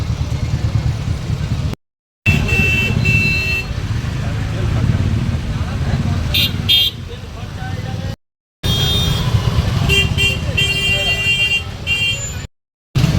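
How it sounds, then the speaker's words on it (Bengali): A dense roadway traffic jam rumbles with idling car, truck and motorbike engines and occasional horn tones. Voices talk over the steady din, and the sound cuts out briefly a few times. "এই এত জ্যাম, এর মধ্যে আবার সবাই বাঁকে করে জল নিয়ে যাওয়ারও ভিড় লেগে গেছে"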